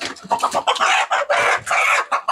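Chickens cluck and squawk near and loud in a rapid, continuous clamor at a fighter-breed chicken farm, with no talk.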